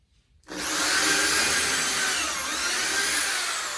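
A power drill bores holes into wooden furniture niche panels, starting abruptly after a short silence and then running as a steady, loud, close whine with grinding bite.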